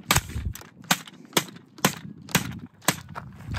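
Six or seven sharp gunshots fired at a CVLIFE JackalHowl red dot sight, spaced roughly half a second apart in a steady rhythm, loud and close, with no talking.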